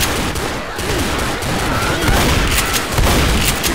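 Pump shotgun blasts in a Silent Hill mod of Left 4 Dead, loud and chaotic, mixed into a constant din of other gunfire and game noise with no clear gaps.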